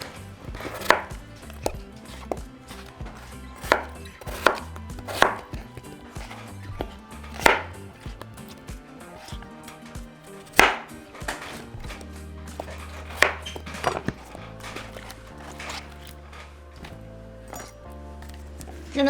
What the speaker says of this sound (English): And I'm just going to cut them like I did with the squash.